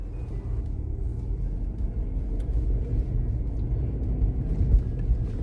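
A car driving along a one-way road, heard from inside as a steady low engine and road rumble, even and continuous with no talking.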